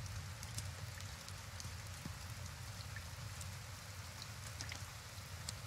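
Rain falls in the tavern-management game Tavern Master as a continuous soft hiss, dotted with scattered crisp droplet ticks, holding a steady level throughout with no voices.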